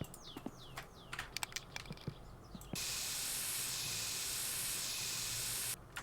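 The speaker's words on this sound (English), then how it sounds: "Let me quickly respray this." In the video game My Summer Car, a spray can hisses steadily for about three seconds while respraying a car air filter, preceded by faint clicks and ambient birdsong.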